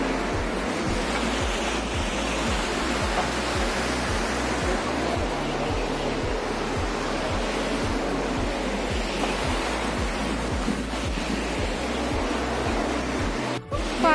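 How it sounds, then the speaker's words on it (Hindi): Water rushes fast from a pump outdoors, a constant broadband roar, steady and close, with a low rhythmic throb of machinery beneath it. "पानी तेज तेज क्यों आ रहा है?"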